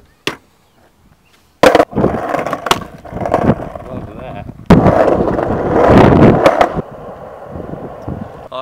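Skateboard wheels roll and clatter across pavement with sharp pops and slaps of the board, loud and close, after a near-silent start.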